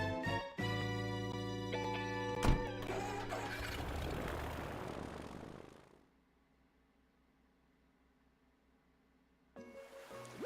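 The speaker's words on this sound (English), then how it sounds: "Time for takeoff. Away we go." Takeoff of an airplane in the video game Animal Crossing: a loud steady engine roar with a sharp click partway through, fading into near silence before game sound returns at the end.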